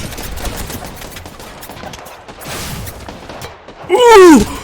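Video game gunfire in a horror-style shooter, bursts of rapid shots crackling through the first half, followed by a louder squealing sound near the end; a voice is faintly present in the background.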